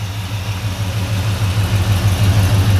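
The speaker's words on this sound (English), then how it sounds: "Got a little rumble to it. Little performance mufflers on there." A 1970 Chevrolet Chevelle two-door hardtop idles through performance mufflers, giving a steady, loud, close rumble with an even low pulsing throb that carries on throughout, no voices.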